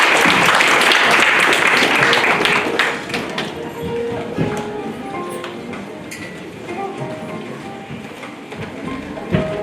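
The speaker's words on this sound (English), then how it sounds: "Can we please welcome Mr. Rai on the stage with a huge round of applause." Audience applause at a school farewell celebration at G.D. Goenka Public School in Agra: loud, dense clapping for about three seconds that then thins and fades into scattered claps and a murmuring crowd.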